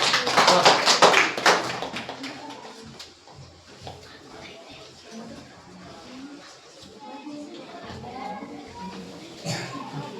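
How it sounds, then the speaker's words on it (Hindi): Classroom applause for a student: a burst of clapping from a class of children in a sixth-grade science lesson, loudest at the start, then fading into murmuring and shuffling, with another short clap near the end. "जोरदार ताली बच्चे के लिए"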